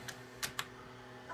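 A few light key taps on a computer keyboard, three or four quiet separate clicks with pauses between them, close and faint against a soft background hum.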